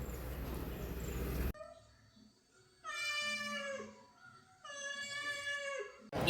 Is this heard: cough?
no